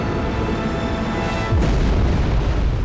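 A loud explosion sound effect for the torpedo blast aboard the Russian submarine Kursk: a deep, continuous rumbling boom that swells sharply about halfway through.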